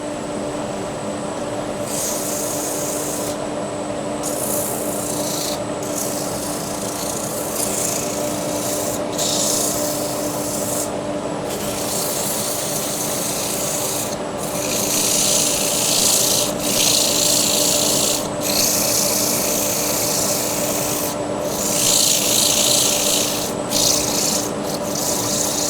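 Sandpaper rubbing a spinning wooden table lamp on a lathe, producing a steady loud hiss over the hum of the lathe motor, with brief pauses and shifts as the paper is lifted and pressed again.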